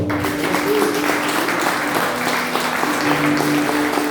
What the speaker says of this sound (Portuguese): Aplauda Jesus, nós vamos orar.